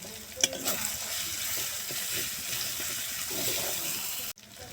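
Dried red chillies, bay leaves, garlic paste and chopped onion fry in tempering oil for ol shaak ghonto, a steady close sizzle with a few stirring knocks, cut off abruptly near the end.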